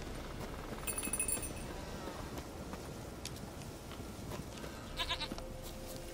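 A goat in the video game The Witcher 3: Wild Hunt bleats faintly a couple of times against a steady noisy background, with light clinks and hoof-like taps scattered through.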